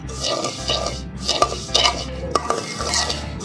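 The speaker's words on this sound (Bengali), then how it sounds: "দেখুন আমি ঘি দিয়ে ভাজতেছি" Vermicelli frying in ghee in a pan for an Eid sweet dish. A steady soft crackle continues throughout, with a spoon scraping and clinking against the pan several times as it stirs, close and fairly loud, and no talk.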